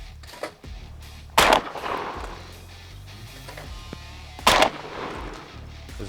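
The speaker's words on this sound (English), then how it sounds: "All right, first 3 shots, I got 1 clay." Two loud, close shotgun blasts about three seconds apart from a Stoeger M3500 semi-automatic fired at clay targets outdoors, each a sharp boom with a short ringing tail, plus quieter handling clicks between them.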